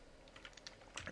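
Soft, quick keystrokes on a computer keyboard sound as code is typed, a short run of light clicks ending in a sharper tap.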